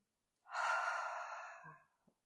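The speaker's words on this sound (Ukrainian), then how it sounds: "Можете заплющити очі, зробити повільний вдих, відпускаючи видих." A person takes one slow, soft breath, close and alone, during a morning breathing exercise. It rises quickly and tapers over about a second and a half, with a faint click as it ends.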